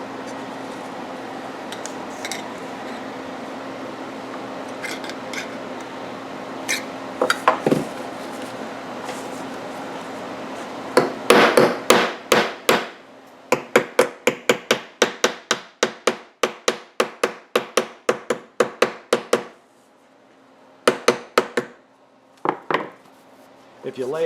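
A metal reed stop from a Honda EU3000i generator fuel kit is tapped flat on a solid surface, giving sparse taps first and then a fast run of sharp, close metallic hits, with short pauses between the bursts.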